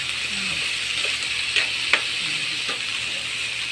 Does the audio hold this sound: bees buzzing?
no